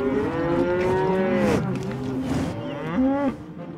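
Bison and domestic cow crossbreeds lowing, with two or three long, loud moos close by and nothing else audible.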